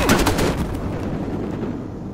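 Dense, loud close-range gunfire from a multiplayer shootout in Battlefield Hardline, rapid shots rolling together into a continuous burst with no speech.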